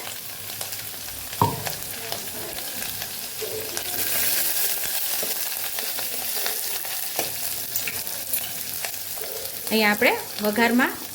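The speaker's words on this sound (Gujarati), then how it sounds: "જે આપણે બેટર બનાવીને તૈયાર કરેલું એ આપણે અહીંયા હવે ઉમેરી દેવાનું છે." Kadhi batter is poured into hot tempering with ginger and dried curry leaves in a Kathiyawadi kitchen, bringing a steady hiss and sizzle and scraping stirring, with a brief voice speaking.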